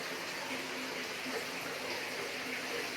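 Soft, steady rush of water flowing inside a cave near a low crawl, faint and continuous throughout with no voices.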